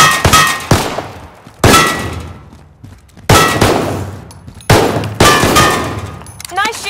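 Repeated metallic clangs from a supply box being hit in a first-person shooter game, four or five loud sharp strikes spaced a second or so apart, each ringing briefly before fading.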